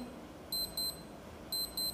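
High-pitched electronic beeps from a G-Shock digital sports watch alarm sound in two quick double bursts over a low hiss.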